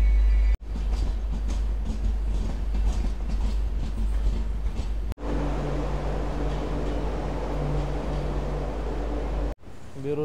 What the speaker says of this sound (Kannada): ರಾಣಿ ಚೆನ್ನಮ್ಮ ಎಕ್ಸ್ಪ್ರೆಸ್ ಟ್ರೈನ್ ಆ ಕಡೆ ಬೆಂಗಳೂರು ಸೈಡಿಂದ ಬರೋ ಟ್ರೈನ್ ಬಂತು